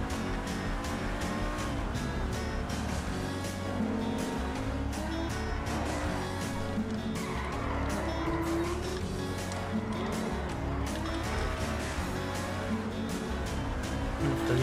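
A stolen car in GTA V drives hard and skids, its engine roaring steadily with tire squeals over several seconds, loud and continuous.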